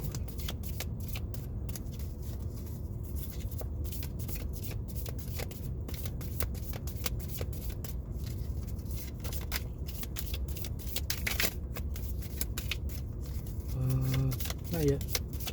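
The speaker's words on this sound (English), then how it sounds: "I'm doing my best to shuffle vigorously to get some cards" Tarot cards being shuffled vigorously and continuously close by, a dense riffling flutter that runs throughout while a voice talks over it.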